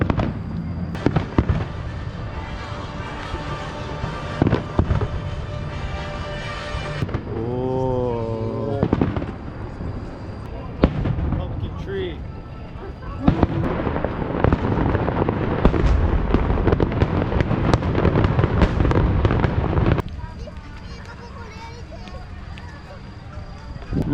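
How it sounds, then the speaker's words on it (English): Fireworks display in Nagasaki, Japan, with repeated booms and crackling bursts over a long stretch, mixed with crowd noise and people talking nearby. "get to watch the fireworks from right here"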